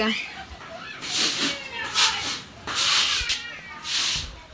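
A pig being washed, its sides scrubbed with a brush while water is poured, giving about four broad, rasping scrub strokes, each a second or so long, with brief pauses and some background voices.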